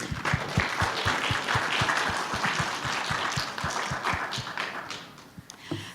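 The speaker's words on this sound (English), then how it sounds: "So let's give them a round of applause" A theater audience gives a round of applause at a free science movie screening before Jaws, with broad steady clapping and some sharp nearby claps on top. The applause fades near the end.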